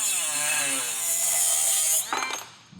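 Steel flat stock being cut for puller arm extensions in a garage, a loud continuous abrasive power-tool cut lasting about two seconds, then stopping with brief rattling handling noise.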